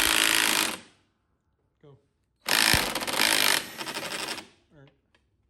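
An impact wrench hammers in two loud bursts while removing a riding mower's steering wheel, the first about a second long and the second longer, with short spoken words in the gaps.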